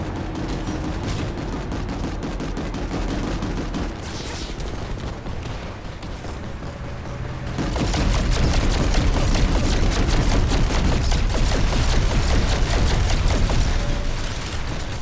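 Weapon fire from Planetside 2 rattles in dense bursts, lighter at first, then a louder sustained barrage with booms from about the midpoint onward, thick battle noise throughout.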